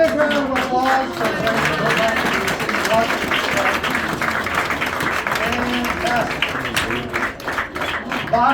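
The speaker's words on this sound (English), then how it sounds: "A big round of applause for" Audience applause at a magic show at House of Cards in Nashville: steady, dense clapping throughout, mixed with tonal voices or music that rise and fall underneath.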